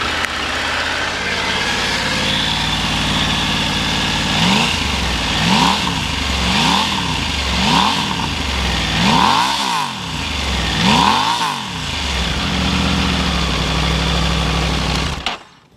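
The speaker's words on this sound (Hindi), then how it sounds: "ट्रिपल सिलेंडर इंजन की खासियत में सिर्फ पावर और रिफाइनमेंट नहीं, एग्जॉस्ट नोट भी है. तो आपको यहाँ पर एग्जॉस्ट नोट सुना देता हूँ." A Triumph Tiger 900 GT triple-cylinder engine idles with a throaty exhaust note, then is blipped about six times in a row, each rev rising and falling, before cutting off abruptly.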